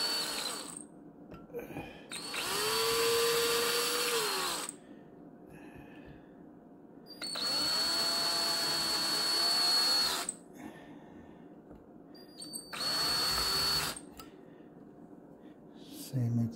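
A power drill making small pilot holes to mount pickups on the front of an Explorer-style kit guitar, three loud whirring bursts of a few seconds each, separated by quiet pauses.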